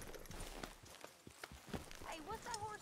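Horse hooves clip-clop in irregular steps in Red Dead Redemption 2, faint and close, while someone talks over them.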